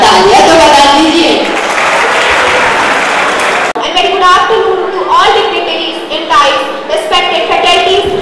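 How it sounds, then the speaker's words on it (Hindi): Audience applause for a performer at an Engineers Day college celebration, dense clapping for the first few seconds that gives way to a voice talking over thinner clapping. "थोड़ा तालियां तो बजा दीजिए"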